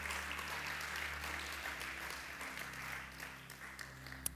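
Applause from a church congregation, a continuous dense wash of many hands clapping that is fairly faint and gradually thins toward the end.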